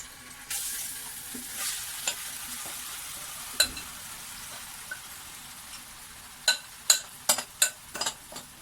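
Chicken pieces frying in oil for white chicken korma make a soft, quiet sizzle, broken by sporadic sharp crackles and spatters that bunch together near the end.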